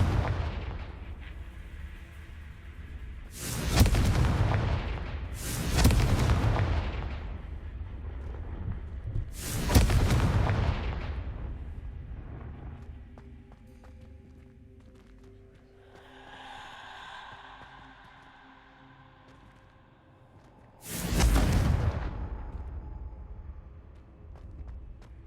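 Confringo blasting-spell explosions in the video game Hogwarts Legacy: four loud booming blasts in quick succession, then a quieter stretch with a faint high hum, followed by one more heavy explosion.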